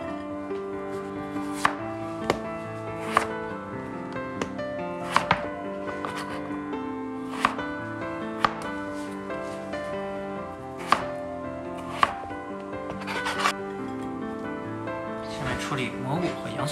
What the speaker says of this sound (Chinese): 斜切一刀。